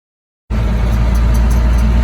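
A first-generation Cummins truck cruising on the open road after a short silence, its engine a loud, steady low drone with road noise, heard from inside the cab.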